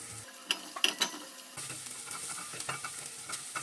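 Onion and garlic sautéing in oil in a hot pan, a faint sizzle broken by a few sharp clinks and scrapes of a spatula, then lighter scattered stirring.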